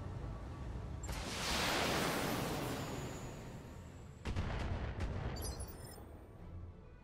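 Long-range missile salvos firing in the BattleTech video game: a roaring whoosh builds and fades, then a second sharp launch cuts in, followed by rumbling booms, loud with no talk.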